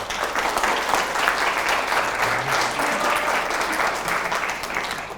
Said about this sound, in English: which I think also warrants a quick round of applause.